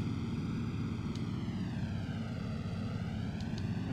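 Ju-88 bomber engines in IL-2 Sturmovik droning loud and steady, a dense continuous propeller roar with a slowly shifting harmonic pitch as the throttle opens up, alone without talk.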